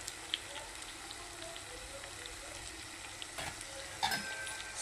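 Potato pieces fry in a pan for aloo curry with onions, a soft steady sizzle with brief stirring clicks and scrapes near the end, fairly quiet and continuous.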